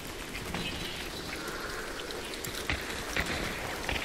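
Steady rain hisses across a video game world, a continuous dense patter with a few brighter drop splashes, loud and unbroken throughout.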